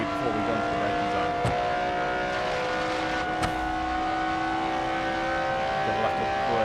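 Race car engine droning steadily in BeamNG, a viewer-made car holding a constant tone with faint tire and chassis noise, with no clear braking event standing out.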